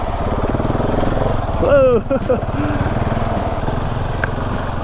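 A Husqvarna 701 enduro motorcycle ridden on single track, its engine droning steadily and close, then briefly revving harder midway, while a rider's voice exclaims over the engine noise.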